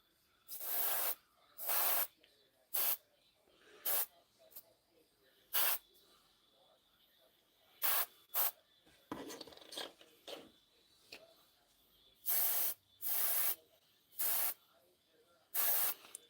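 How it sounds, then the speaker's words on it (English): Airbrush spraying base coat paint onto Mk6 and Mk2 model armor, heard as a string of short, loud, breathy hissing bursts, each one to two seconds long, separated by quiet pauses. "But the big base coats, I have to use the airbrush."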